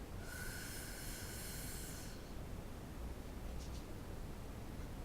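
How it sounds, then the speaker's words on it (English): A long, noisy breath drawn in through the mouth before a growl scream, lasting about two seconds at close range and followed by quiet room hiss with a faint short sniff. "I breathe in"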